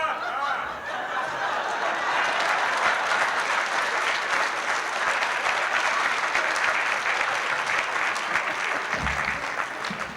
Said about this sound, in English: just getting out of a chair and crossing the room can get me applause